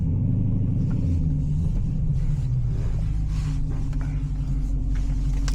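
A 2022 Dodge Challenger Scat Pack driving on wet roads in the rain, its deep steady engine rumble droning continuously from inside the cabin with faint road and water hiss above.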